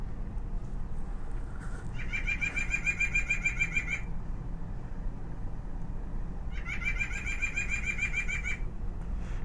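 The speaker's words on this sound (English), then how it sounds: "a song for you" Recorded white-breasted nuthatch song, two rapid runs of repeated nasal notes a few seconds apart, each lasting about two seconds, over a steady low background hum.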